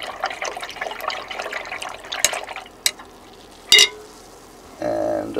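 Liquid sloshes and swirls as a mixture is stirred during silver refining, with a few sharp glassy clinks and a brief steady hiss toward the end.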